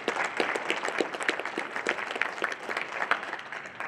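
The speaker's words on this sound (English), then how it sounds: "They both deserve a great round of applause" An audience claps steadily for a few seconds, a dense, even wash of applause from a crowd with no voices standing out.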